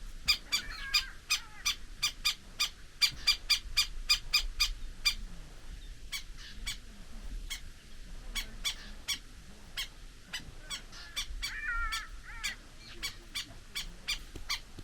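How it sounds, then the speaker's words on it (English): Jackals call at sunset in the Kgalagadi, a long series of sharp, high yelps and squeals in rhythmic bursts, moderately distant, over a quiet evening background of soft natural sounds. "Sunset with the jackals calling."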